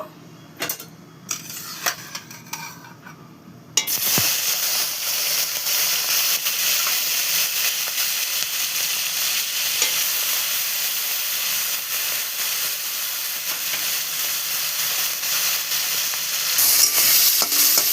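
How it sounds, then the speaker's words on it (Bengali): Prawns dropped into hot oil, a few light clinks at first and then a sudden strong, sustained sizzle that stays loud and even right to the end. "আমি চিংড়ি মাছগুলো ভেজে নেব"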